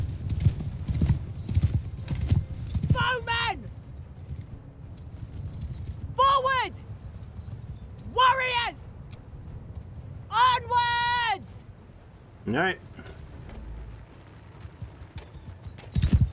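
Horses gallop in a medieval battle in Mount & Blade 2: Bannerlord, with a steady rumble of hooves under several loud horse neighs and whinnies spaced a couple of seconds apart, and someone briefly speaks.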